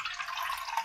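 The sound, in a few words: water being poured into pot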